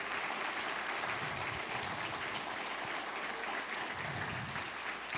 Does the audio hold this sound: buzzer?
no